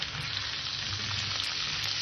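A light curry of kohlrabi, potato and puti fish, seasoned with turmeric and salt, fries in a pan with a constant dense sizzle and crackle, steady and close, with no talking.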